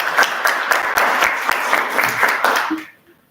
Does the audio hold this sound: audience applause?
yes